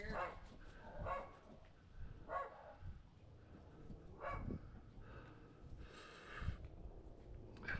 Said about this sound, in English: All the dogs in the neighborhood bark whenever Matt's walking these rescue animals